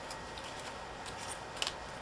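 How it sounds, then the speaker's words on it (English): Small snips or scissors cutting a sheet of dollhouse-miniature art glass, a soft steady snipping with one sharper click near the end, close and quiet with no talking. "Let's cut some off of this one."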